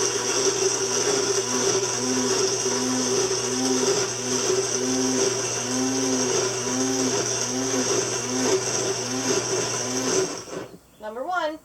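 An Almond Cow machine whirring through its cycles while making almond milk, a steady motor drone pulsing in a regular rhythm about once a second, then stopping abruptly near the end as a voice begins.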